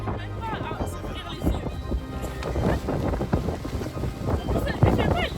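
Strong wind blowing in Iceland, a rough, continuous roar buffeting the microphone, with people talking underneath throughout.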